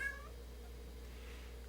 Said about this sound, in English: we're going to have cat noises